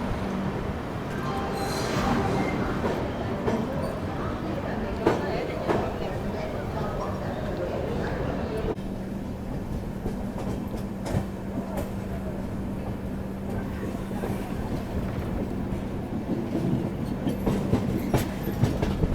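The Mysore-Jaipur Express rolls out of Nagpur Junction, its steady rumble and rhythmic wheel clatter on the rails continuing close and loud throughout.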